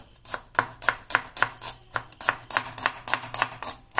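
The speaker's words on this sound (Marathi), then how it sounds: "नवीन सुरीने कांदा कसा कापतो बघा" Onion chopped with a new knife on a board, a brisk run of about a dozen sharp, evenly spaced cuts, close and clear with no talking.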